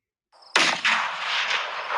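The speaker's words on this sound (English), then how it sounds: "a gunshot is heard." A gunshot sound effect goes off in a stage performance of the play All My Sons: a sudden loud sharp blast, a second crack close behind, then a rolling echoing decay.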